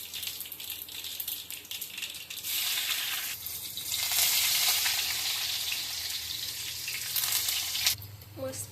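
Tadka spices crackling and sizzling in hot oil, a steady frying hiss that swells louder midway with bursts of spitting, heard up close at moderate volume without speech.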